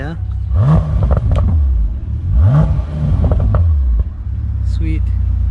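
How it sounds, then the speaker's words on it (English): A 2021 Bentley Continental GTC's W12 engine revs in short repeated bursts, each climbing and falling in pitch, with exhaust burbles on downshifts, loud and close from the cabin. "Nice burbles that come out of the exhaust, especially when you downshift."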